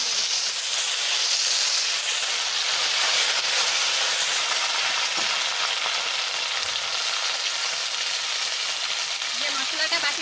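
Bay leaves and cumin seeds sizzle steadily in hot oil in a pan, a continuous bright frying hiss close by with no talk over it.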